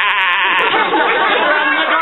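A mountain goat bleats at night on a hillside in Olympic National Park, one loud, drawn-out wavering cry lasting about two seconds.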